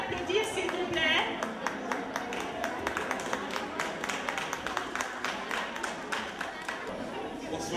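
An audience at a cultural and international solidarity day in Elbeuf applauds with steady, continuous clapping that carries on throughout, mixed with crowd chatter and speech from the room.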